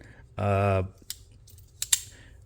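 A brief low voiced tone, then a few sharp metallic clicks and snips as the scissors of a multi-tool are handled close by.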